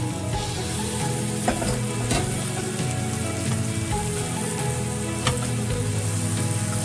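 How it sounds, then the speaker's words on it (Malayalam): Oats drop into boiling water in a pan for oats upma, giving a steady close bubbling and sizzling hiss with faint stirring clicks throughout. "ഇനി ഇതിലേക്ക് നമ്മൾ ഓട്സ് ഇട്ട് കൊടുക്കാമേ"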